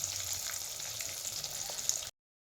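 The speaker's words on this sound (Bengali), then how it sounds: "একদম লাল লাল করে ডিমগুলোকে ভেজে নিচ্ছি, যাতে টেস্টটা আর দেখতে দুটোই সুন্দর লাগে।" Eggs frying in oil until browned deep red for a home-style egg curry, a steady dense sizzle and crackle close up that runs on without a break and then cuts off abruptly.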